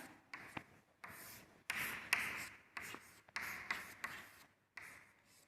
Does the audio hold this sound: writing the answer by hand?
yes